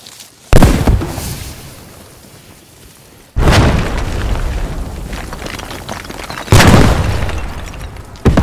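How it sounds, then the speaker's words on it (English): TNT charges explode on a tank in the WWII shooter Post Scriptum: three loud, close booms spaced a few seconds apart, each trailing off into a long, rumbling decay. "TNT down on the tank."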